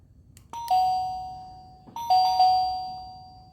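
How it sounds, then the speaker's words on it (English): Doorbell pushed twice in a quiet room, each press giving a clear chime that rings out and slowly decays, the second ding following about a second and a half after the first. "we're going to push the bell."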